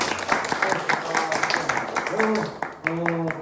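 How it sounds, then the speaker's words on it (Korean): Audience applause at the close of a civil society forum session in Incheon, honouring a professor: dense, sustained clapping fills the room for the whole stretch, with voices and tonal sounds rising over it near the end. "우리 교수님께 뜨거운 박수 부탁드립니다"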